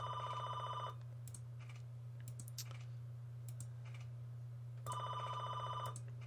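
An old-style telephone bell rings in two bursts, near the start and end, with a steady low hum and scattered keyboard typing and clicks in between at a computer desk, fairly faint overall.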